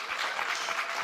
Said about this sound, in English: I want you guys to give one final round of applause to Grace, Kim, and Naomi.